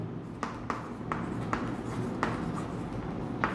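A pen writes on paper during a maths lesson, with short scratchy strokes and light taps at irregular intervals, soft and close against a steady low background hum, no speech.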